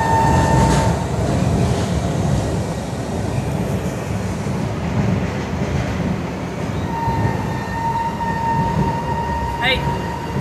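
A Miami Metro train rides the rails with a steady loud rumble and rolling wheel noise, brief high squeals and tones cutting in, while people talk faintly aboard.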